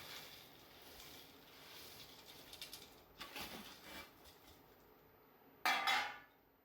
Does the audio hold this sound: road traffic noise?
no